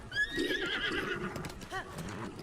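A horse in Breath of the Wild whinnies clearly at close range, with a short neigh and soft game ambience around it.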